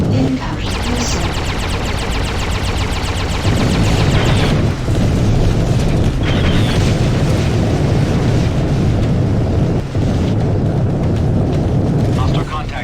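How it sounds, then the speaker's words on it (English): Heavy explosive rumbles and booming blasts from an incoming missile strike in the space combat game Freelancer roll on continuously and loudly, layered with dense engine-like roar and talk throughout. "Incoming missile."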